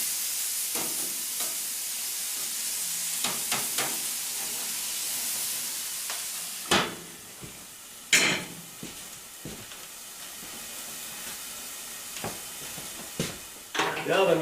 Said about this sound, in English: Let's see how our hamburgers are doing here. They're cooking away in this nice hot fire.